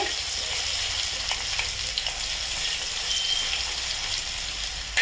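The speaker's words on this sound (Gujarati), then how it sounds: "અહીંયા તેલ ગરમ થઈ ગયું છે, એટલે આમાં હું હવે થોડું જે મેં લસણ કરીને રાખ્યું હતું એ એડ કરી દઈશ" Chopped garlic frying in hot oil for Schezwan chutney, giving a dense, steady crackling sizzle heard up close with faint stirring knocks and no speech.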